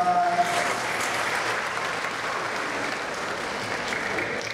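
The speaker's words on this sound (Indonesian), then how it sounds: "Boleh kembali tepuk tangan buat sister-sister kita." Congregation applause inside a church during Sunday Mass, a soft, even wash of clapping that holds steady and slightly reverberant for several seconds.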